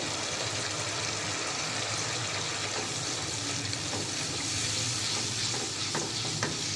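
Diced potato and capsicum fry in a pan with red chilli powder, crushed red chilli and turmeric, giving a steady, dense sizzle throughout with faint scraping stirs.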